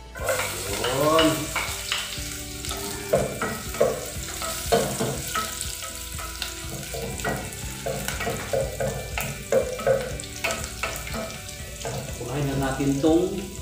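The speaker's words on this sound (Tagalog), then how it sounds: "Kainitin natin lang ating mantika tapos nalagay natin itong bawang." Garlic sizzles and crackles in hot oil, steady frying with occasional stirring, while someone talks over it.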